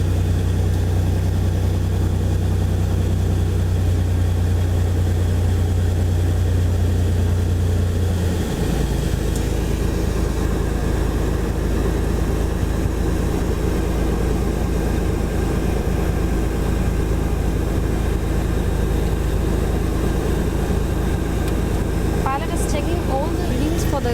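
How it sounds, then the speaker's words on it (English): A Cessna 206H propeller plane's engine runs on the ground, a loud continuous drone with a steady low hum that shifts in pitch partway through as the engine changes speed, up close and dominating the scene. "The aircraft has been visually checked with a go-around inspection, and now we're going for the ground run"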